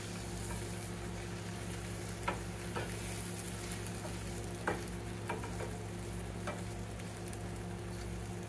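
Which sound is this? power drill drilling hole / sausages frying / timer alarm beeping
sausages frying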